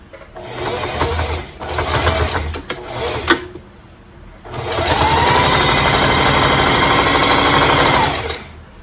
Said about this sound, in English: you're going to stitch as close to the edge as possible all the way around